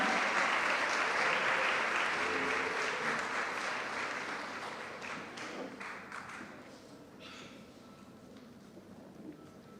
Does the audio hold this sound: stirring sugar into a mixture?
no